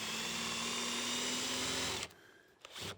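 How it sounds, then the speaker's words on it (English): A 5/8 inch multi-spur Forstner bit spins up in a drill and bores into wood for a corner chair, a loud steady whine for about two seconds before cutting off, followed by brief quieter motor bursts. "with a 5/8 inch multi-spur Forstner bit, you bring it up to speed and you line it up"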